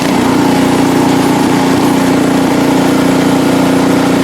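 A snowblower engine runs steadily near at hand, a continuous droning hum with a buzzy tone that holds level throughout, with no talking over it.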